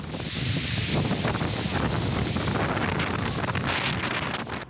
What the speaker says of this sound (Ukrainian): Вітер у місті не вщухає, заважаючи аварійникам полагодити обірвані дроти.